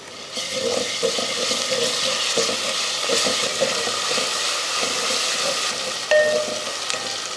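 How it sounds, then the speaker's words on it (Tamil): Ginger garlic paste frying with onions in a pan, with a steady close sizzle and crackle that runs throughout, broken by brief stirring clatters and a short sharper hiss near the end. "இந்த டைமில் 1/2 ஸ்பூன் அளவுக்கு இஞ்சி பூண்டு பேஸ்ட்."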